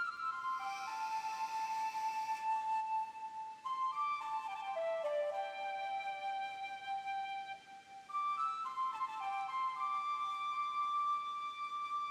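A gentle flute melody from Pokemon Legends Arceus rises and falls in clear sustained notes, playing alone and fairly soft with brief pauses between phrases.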